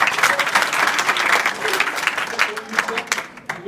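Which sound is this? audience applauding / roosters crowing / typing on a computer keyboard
audience applauding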